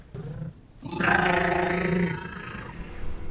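A dinosaur roar sound effect from Jurassic Park, a loud, drawn-out, rough bellowing roar with a growl that swells up after a brief lower rumble and trails off into a grunting tail.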